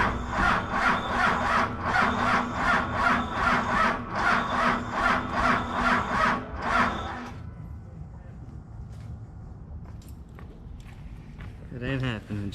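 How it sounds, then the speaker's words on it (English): A cold Dodge Cummins diesel engine cranks over with a steady, rhythmic starter chug for about seven seconds, loud and close, without catching, then stops, leaving quiet background clicks and a voice near the end. "I was cranking her too long without using the heater grid, and she just didn't have it"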